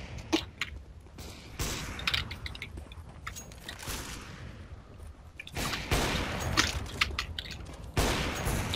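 Gunfire on a CS:GO AWP-only server, where the AWP sniper rifle is in use: sharp, loud shots and bursts recur every second or two amid busy background game noise, with no talk.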